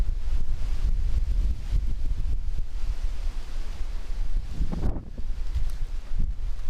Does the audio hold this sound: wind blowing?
yes